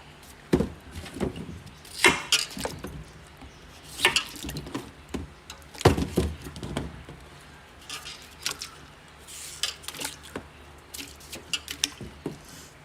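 Boiled taro root is cut with a knife on a board, giving a series of irregular, close knocks and thuds with short gaps between them and no talking.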